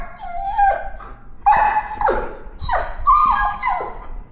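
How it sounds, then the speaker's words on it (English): A dog that has learned aggression demand-barks, four loud, close, whining barks spaced about half a second to a second apart. "So now she's demand barking."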